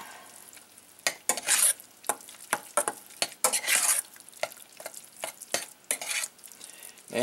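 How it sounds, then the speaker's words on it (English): Shredded cheese is stirred into a pot of grits, a series of close, irregular scraping and slapping strokes of a utensil against the pot over a quiet background, with no talking. "Stir this up."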